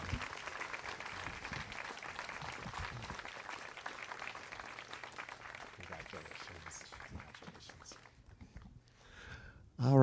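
A crowd claps steadily through a graduation award ceremony at a school's eighth grade recognition event, the dense applause holding for several seconds, thinning and dropping off near the end before a sudden louder burst.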